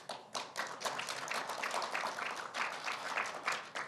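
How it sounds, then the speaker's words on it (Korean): Applause from the audience at a Kwanhoon Club debate with a Seoul mayoral candidate, a dense wash of many hands clapping that carries steadily and close for the whole stretch, with no one talking over it. "관훈 토론회에서는 그 박수 중간에 치는 게 금지되어 있습니다"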